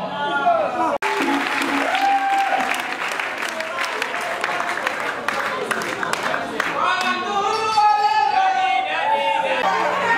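Audience at a concert hall show in Kinshasa applauding the artists, clapping and crowd chatter under loud amplified speech and shouting that runs through most of the clip.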